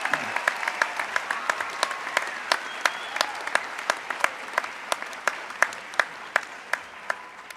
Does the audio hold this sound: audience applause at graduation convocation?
yes